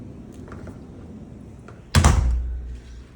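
Exterior door of a house closing with a single sharp thud partway through, its low boom fading briefly afterward, with quiet room ambience before it.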